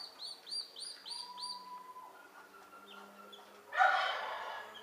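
Newly hatched guinea fowl keets give a rapid series of high, thin chirps close by, followed by scattered softer peeps and a brief rustle.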